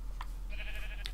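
A single sheep in Minecraft gives a short wavering bleat, close and fairly clear over a low steady hum, with soft clicks before and after.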